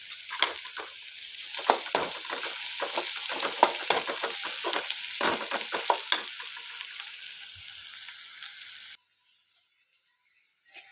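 Green chillies and small onions fry noisily in a pan with a steady sizzle and crackle, stirred with sharp scraping clicks, loud and close for about nine seconds before the sound cuts to near silence.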